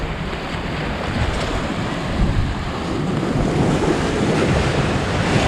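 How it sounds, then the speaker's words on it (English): Big ocean waves breaking in steady surf along the shore near Aruba's Isla di Oro, a continuous loud wash with heavy wind buffeting the microphone, no voices. "That's the main reason why you get those big waves."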